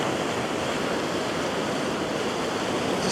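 Ocean waves breaking on a shore under moonlight, a steady loud wash of surf and spray that runs unbroken with no voices.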